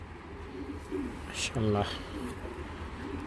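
Young foreign-breed pigeon chicks give a low, muffled coo beneath background murmur, with a short spoken exclamation cutting in near the middle.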